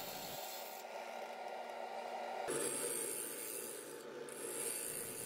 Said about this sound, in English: Using the Carter & Son bowl gouge here.